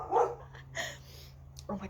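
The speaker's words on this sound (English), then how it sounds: "I think they're barking at the cat right now." A quick dog bark or yip at the start, then voices talking over a steady low hum, with another short sound near the end.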